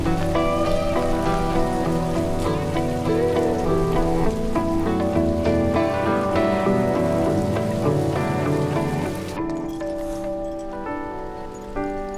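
Steady, loud rain falls for the whole stretch, an even wash of hiss that sits under sustained tonal music and fades slightly near the end.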